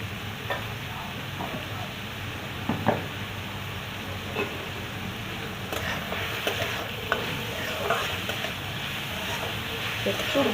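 Papad being fried in a pan for a chatpati snack, a continuous soft sizzle with frequent stirring scrapes and light utensil knocks throughout.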